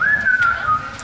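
A single human whistle imitating a ghost, a sustained wavering tone that slides slightly downward over about a second, close and clear.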